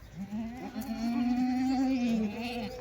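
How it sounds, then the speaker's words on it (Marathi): A Kathiyawadi goat lets out one long, wavering bleat lasting over two seconds, close and clear, with faint farmyard background behind it. "जबरदस्त शेळ्या."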